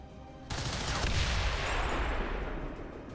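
A grenade-style explosive detonates in XCOM 2, a sudden loud blast followed by a rumbling, crackling decay that lingers for a few seconds.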